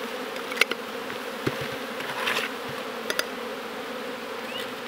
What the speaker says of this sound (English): shake those bees into that container, knock some down towards the bottom